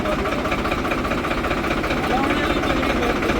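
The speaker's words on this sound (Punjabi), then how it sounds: "ਸਾਰੇ ਟਰੈਕਟਰਾਂ 'ਚ ਹਾਲੈਂਡ 'ਚ ਵੀ ਬਹੁਤ ਖੜਕਦੀ ਆ ਅੱਗੇ ਪਿੱਛੇ ਨੂੰ" A tractor engine runs steadily at a low idle with a constant rattling, knocking vibration, loud and close throughout.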